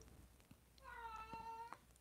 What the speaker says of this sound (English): he's meowing. He's asking for something.